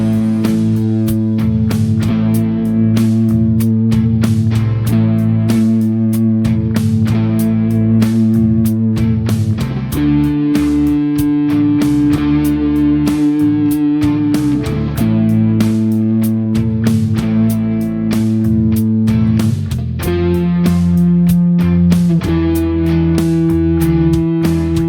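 An electric guitar solo picks out the root note of each chord as the changes happen, giving sustained, slightly distorted notes that step to a new pitch every few seconds over a backing track.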